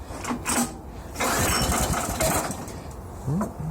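A tractor engine cranks and catches in short bursts, a few loud close turnover attempts with brief pauses before it starts running, no speech.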